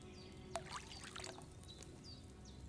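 Wine is poured into a cauldron in the video game Kingdom Come: Deliverance II, a faint liquid pour with a small knock at the start and quiet ambient chirps behind it.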